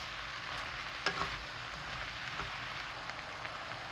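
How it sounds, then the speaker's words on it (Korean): Potatoes, onions and other vegetables stir-fry in a pan for a tomato soup, giving a steady, soft sizzle with a few light scrapes and clinks from stirring and no one talking. "감자랑 양파 볶다가 바로 나머지 채소들을 다 넣고 살짝만 볶았습니다."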